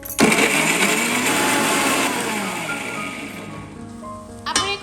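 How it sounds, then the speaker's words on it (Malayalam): A mixer grinder blends tomatoes and two cloves of garlic in its jar, a loud, steady whirring that gradually drops in pitch and fades, ending in a brief clatter. "നമുക്ക് മിക്സിയുടെ ജാറിലോട്ട് ഇട്ട് കൊടുക്കാം ഈ തക്കാളിയിലോട്ട് രണ്ടല്ലി വെളുത്തുള്ളി കൂടെ ചേർത്തിട്ട് നമുക്കിത് നന്നായിട്ടൊന്ന് അരച്ചെടുക്കാം"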